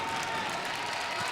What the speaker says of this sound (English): big applause here from Perry Crowell IV